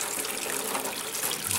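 Homebrew liquid, dark copper in color, poured into a 2-liter pitcher, a continuous close splashing gush of water-like pouring that runs steadily through the clip.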